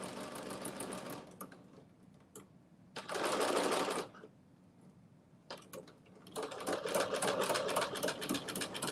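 Sewing machine stitching ruffle fabric in short bursts, a loud run of about a second, quiet gaps, then longer steady runs of rapid mechanical whirring.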